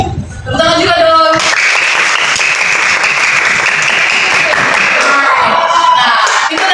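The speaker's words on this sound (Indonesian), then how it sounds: "Tepuk tangan juga dong." A crowd bursts into loud, sustained applause, dense clapping that carries on steadily for several seconds with some cheering mixed in.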